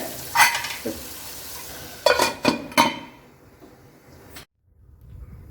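Beans stirred and frying in oil in a pan on a stove burner, with scraping spoon strokes against the metal and a light sizzle, then a sudden cutoff near the end.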